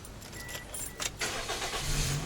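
A car engine is cranked and fires up close by, after some faint rustling and clicks, then settles into a low, steady idle.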